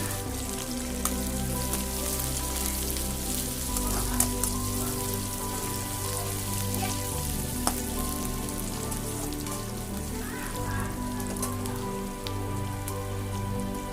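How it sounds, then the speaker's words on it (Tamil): Onions sautéing with curry leaves and dried red chillies in a pan, a continuous crackling sizzle like light rain, with faint hums in the background and a few small clicks. "வெங்காயம் நல்லா வணங்கட்டும்"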